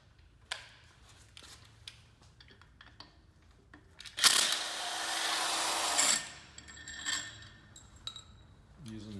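A 13mm tool loosens the secondary clutch bolt on a 2016-or-later Arctic Cat snowmobile. Quiet clicks and taps lead into a loud two-second whirring burst, then scattered metallic knocks.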